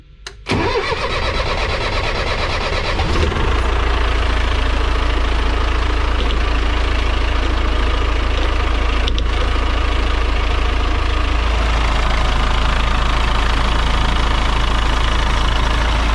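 A PAZ 32053 bus diesel engine cranks briefly, catches and settles into a loud, steady rough idle that runs alone for the rest of the stretch.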